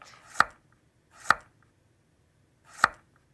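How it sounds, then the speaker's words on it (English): A kitchen knife finely dicing carrots on a board gives three sharp, close chopping knocks at uneven intervals, with quiet pauses between and no talking. "So I'll just finely dice these."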